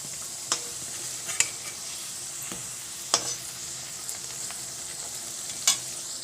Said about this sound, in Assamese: এয়া কচৰিকেইটা ধুনীয়াকৈ ভাজ খাই গৈছে